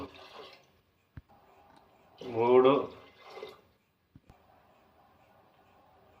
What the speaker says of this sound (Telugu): 4 గ్లాసులు వాటర్ పోస్తా